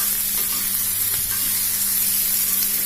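Spice paste sautéing in a pan for sweet and sour gourami fish, with a steady, close sizzling hiss that continues without a break throughout.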